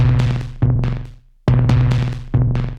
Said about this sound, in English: So my Moog DFAM drums are gonna sound like this.